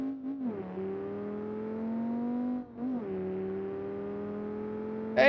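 A car engine in the driving simulator BeamNG hums at a steady pitch, dips briefly as the revs fall and recover, then holds a smooth drone alone, with a sharp burst at the very end.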